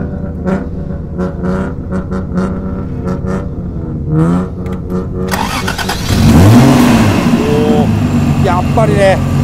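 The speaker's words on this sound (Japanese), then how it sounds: "エンジンかけていただいてよろしいですか" A first-generation Toyota Soarer GZ10, with a 1G engine and a period Trust exhaust manifold, cranks several times and fires up, then revs up and settles at a rough idle. It is loud and close, and talk comes before the start.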